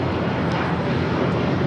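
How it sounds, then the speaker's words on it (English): A United Airlines Boeing 757-200 takes off at LAX, its engines giving a steady, loud jet roar that stays level throughout with no voices over it. "8131 taking off to Newark on a 757-200."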